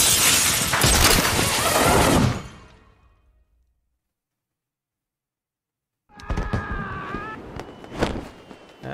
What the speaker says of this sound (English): the dome is breaking apart